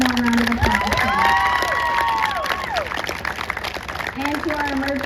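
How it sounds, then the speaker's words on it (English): A high school crowd at an EMS-staged prom crash scenario for a class of 2022 applauds and cheers the performers. Loud clapping mixes with whoops and raised voices in a dense, sustained wash. "If we will give the performers one more round of applause, please."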